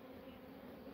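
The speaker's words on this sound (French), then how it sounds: "Pas grave s'il reste des abeilles, je viendrai les taper après plus tard là-bas" Honeybees buzz around an open beehive as a beekeeper works with a smoker, a steady close insect hum with a low drone holding evenly throughout.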